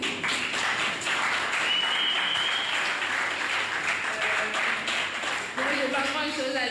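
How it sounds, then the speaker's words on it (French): Continuous audience applause for young people at a regional launch gathering in Mauritius, dense and steady throughout, with whistles and scattered voices rising through the clapping. "applaudissons les jeunes qui vivent là, aussi qui viennent avec nous"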